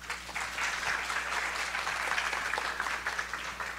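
An audience claps at a Brazilian symposium on constructed wetlands: dense, steady applause from many hands that holds at an even level for nearly four seconds, with no voices.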